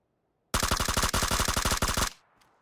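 Automatic gunfire in a PUBG esports match, a single sustained burst of rapid, evenly spaced shots lasting about a second and a half, loud and close, with a brief pause midway and a quick tail of echo.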